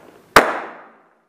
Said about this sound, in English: As soon as that bang goes off, they're straight in that room.